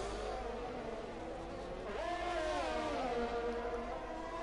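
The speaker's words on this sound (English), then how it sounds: "That revving glitch is fantastic, isn't it?" Racing car engine in an F1 video game at the Azerbaijan circuit, a continuous buzzing drone that rises sharply in pitch midway and wavers, as if stuck revving, steady and fairly loud with no talk.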